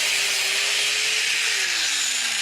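A DualTools CS300 saw with a tungsten carbide blade cuts steadily through wooden trim, giving a loud, continuous high-pitched whine with a faint drifting motor tone, uninterrupted throughout and with no talking.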